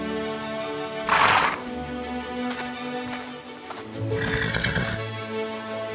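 Horses neigh loudly in two separate whinnies, with a steady clip-clop of hooves running underneath throughout, fairly close and clear with no talking.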